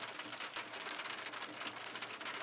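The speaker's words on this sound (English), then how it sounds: "Rain drummed against the nylon in a steady, increasing rhythm." Steady rain drumming on a nylon tent during a thunderstorm in the woods, a dense continuous hiss of drops close by with no voices.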